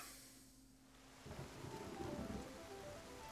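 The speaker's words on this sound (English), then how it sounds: "It's raining." Rain falls in a wooded area in Zelda Breath of the Wild, a soft steady hiss that thickens after a quiet start, with patter on surfaces and a faint low rumble.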